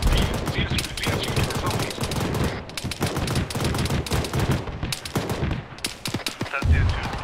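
Sustained gunfire in ArmA 3 during a military operation, with rapid bursts of automatic fire and scattered single shots cracking continuously over a busy battle soundscape, and voices partly audible in the mix.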